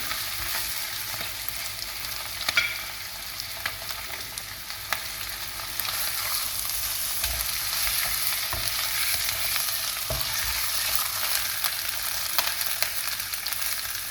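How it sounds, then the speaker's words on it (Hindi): Chicken tikka pieces frying in oil in a pan for chicken karahi, a steady close sizzle with occasional stirring scrapes and taps, no talking. "अब ये टिक्का जो है मैं इसमें डाल देती हूँ ये, और ठीक है। आप इसको थोड़ा सा फ्राई कर लें।"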